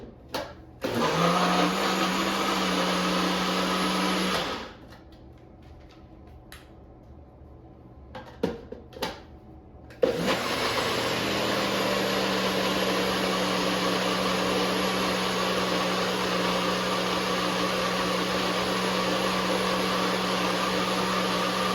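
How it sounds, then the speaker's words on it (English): Blender whirring through cottage cheese pancake batter until smooth, a loud steady motor drone that cuts out briefly partway with a few clunks, then resumes just as strongly to the end. "now I'm just going to blend it until smooth"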